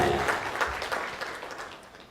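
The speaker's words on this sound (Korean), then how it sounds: "박수 한번 해주세요." Audience applause at a church training conference, a short burst of clapping that fades over about two seconds with no talking.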